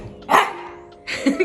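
A pet dog named Coda barks twice indoors, close and loud: one sharp bark followed by a short pause and then a second, longer burst of barking.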